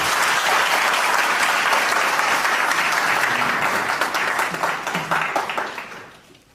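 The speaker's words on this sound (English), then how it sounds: "A round of applause for Rina." Loud, dense applause from a youth forum audience for a speaker, sustained at full strength before tapering off near the end.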